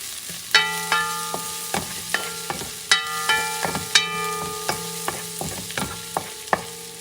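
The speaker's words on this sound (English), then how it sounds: "chop about 3 teeth of garlic, fresh. Mix it up for a few seconds" Freshly chopped garlic stirred and frying in a pan for a pumpkin and pork stew, a steady sizzle broken by repeated sharp clacks of a utensil against the pan, close and clear with no voices.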